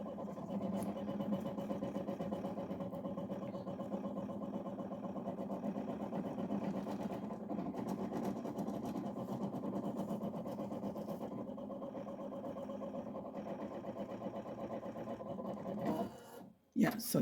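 An 8 in 1 embroidery machine tracing the outline of a hat design, a steady close mechanical whir and hum that runs continuously before stopping with a couple of knocks near the end.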